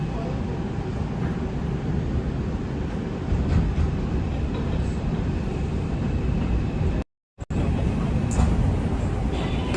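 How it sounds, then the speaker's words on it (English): Steady low rumble of a slow-moving train heard from inside a carriage, with continuous rolling noise filling the clip and a brief dropout near the end. "So, train is going kind of slow right now."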